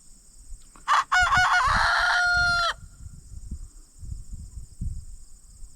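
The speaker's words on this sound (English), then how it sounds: "He's just learning how to crow." A single young rooster's crow, loud and close, with a rough, breaking call, while crickets chirp steadily and soft low thumps continue in the background.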